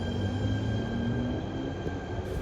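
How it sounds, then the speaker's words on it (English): A Stockholm suburban railway train rumbles past nearby with a steady, dense roll of wheels on track and a faint high whine above it, no voices. "But before we do that, let's go film this train one last time."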